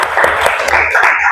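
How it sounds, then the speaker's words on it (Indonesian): Classroom applause for student drama group presentations at a high school, a short burst of loud clapping from the class lasting just over a second. "Beri tepuk tangan untuk kalian semua."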